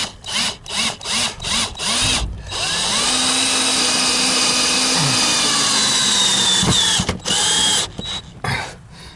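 A power drill drives screws outdoors near a leaking sill faucet on a house. A series of short whirring bursts is followed by a long sustained run with the motor pitch shifting, then more brief pulses, all close and loud.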